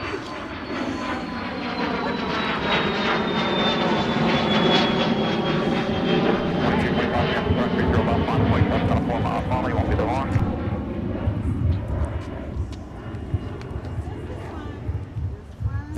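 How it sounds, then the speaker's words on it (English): An airplane takes off from the runway at Minneapolis–Saint Paul airport with a loud, sustained engine roar that swells and then slowly fades into the distance, while people talk throughout. "A nice sporty takeoff."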